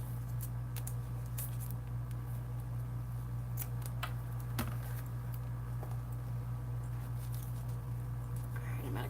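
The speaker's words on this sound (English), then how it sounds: "So I can trim off this excess zipper." Scissors snip off excess zipper tape while sewing a bag, a series of small, quiet, close cuts over a steady low hum, with a voice now and then.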